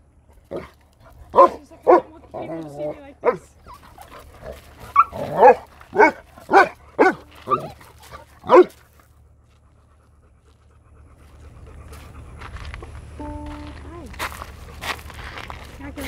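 Dog, the mother of young puppies, gives a series of close sharp barks in quick succession, then falls quiet while softer panting, rustling and faint background sounds continue.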